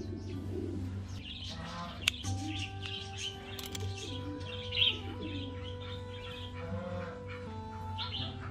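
A red-whiskered bulbul gives repeated chirps and whistled calls while a cast is taken off its leg, fairly faint and close, with a dove-like coo mixed in and no speech.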